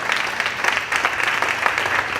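Congregation applauding during a French-language church service in Queens Village, New York: a continuous, moderately loud wash of many hands clapping with a faint rhythmic pulse.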